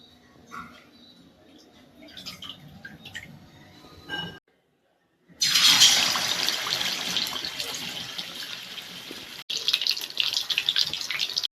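Marinated quail pieces drop into hot oil in a kadai and deep-fry with a loud, steady sizzling hiss that starts midway, after a few quieter kitchen clatters and a brief silence.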